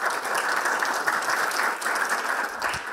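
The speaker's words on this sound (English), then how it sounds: "Let's give Joe and the team that organized this a big round of applause." Sustained round of audience applause at a medical conference, many hands clapping together in an even, moderately loud wash that holds steady with no talking.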